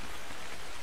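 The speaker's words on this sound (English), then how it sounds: "Still raining." A steady hiss of rain falls in the video game Ark, a dense, even wash of drops with no voices.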